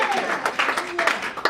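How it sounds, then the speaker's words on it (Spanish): A church audience at a bilingual worship service breaks into a short burst of clapping and cheering, with voices mixed into the applause. "Si está de acuerdo conmigo, denle un aplauso."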